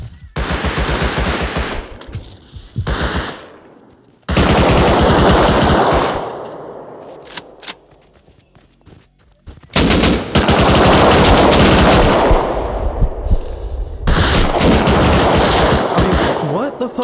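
Heavy gunfire from many players in the Rust console game, including a full metal AK, rattles loud and close in long sustained automatic bursts separated by brief lulls, with no talking.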